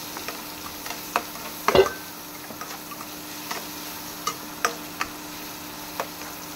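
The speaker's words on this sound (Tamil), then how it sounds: "இது கொஞ்சம் நல்லா வதங்கணும்" Onions sauté in a pan for an onion pakoda curry, giving a soft, steady sizzle with scattered small pops and clicks, one louder clatter near the middle, and no voices.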